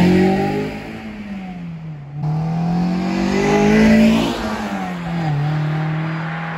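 A loud Honda S2000 engine revs and pulls away with the top down, dropping briefly as gears shift, then climbing again in a steady accelerating drone close by.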